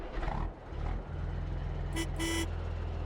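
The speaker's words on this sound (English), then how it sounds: "Yep, horn works." Truck horn in Farming Simulator 22 blares twice in quick succession over a steady low engine rumble, loud and close, with no talk.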